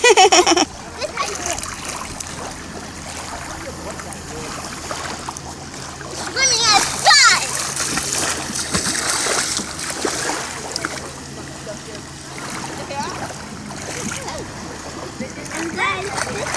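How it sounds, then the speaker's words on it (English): A small child swims and splashes in clear water on an excursion off Roatan, with intermittent splashes and sloshing under ongoing adult talk. "And this is how you swim."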